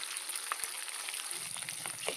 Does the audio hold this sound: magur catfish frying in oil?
yes